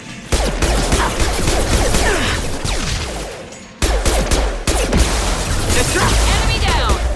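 Loud, dense gunfire from a shotgun and other weapons in Mass Effect 2 on Edin Prime, with heavy repeated blasts and crashes filling the stretch and voices from the game mixed in.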